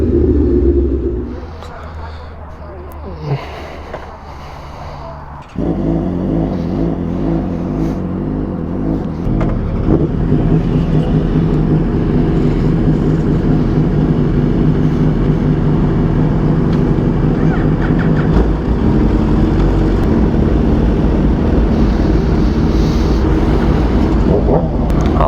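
A group of motorcycles rides together toward a bike meet, engines rumbling steadily and close for most of the stretch after a quieter opening, with a voice speaking over the engine noise.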